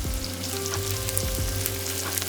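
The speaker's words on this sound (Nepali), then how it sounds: "ओइल तात्यो, अब यो प्याज लगाएर फ्राई गर्दैछु।" Onions frying in hot oil for a Bhutanese chicken curry, a loud dense sizzle crackling steadily throughout at close range.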